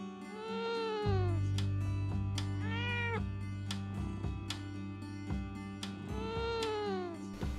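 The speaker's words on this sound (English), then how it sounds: "That's the weirdest sounding cat ever." A cat in the game Leila lets out three drawn-out, oddly warbling meows spaced a couple of seconds apart, close and clear over a steady low hum of background music.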